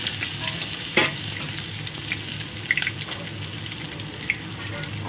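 Chopped onion frying in oil with a little sugar, a close, steady crackling sizzle with a few sharp clinks and scrapes of a spoon stirring against the pan.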